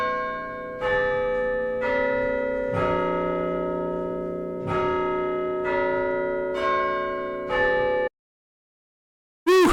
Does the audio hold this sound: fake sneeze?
no